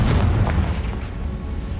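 A Confringo spell explodes in the Hogwarts Legacy video game with a dense, rumbling boom that rolls on as a continuous roar for nearly two seconds, loud and with no talking.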